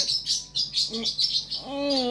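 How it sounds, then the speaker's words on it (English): A pet bird chirps indoors in a series of bright, quick tweets, then a rising whistled call near the end, close by and moderately loud with no talking. "my bird never shuts up."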